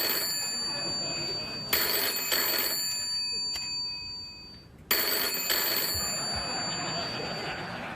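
A telephone rings in a late-night talk show studio, two bursts of electronic ringing separated by a quiet gap, loud and close with a faint murmur beneath.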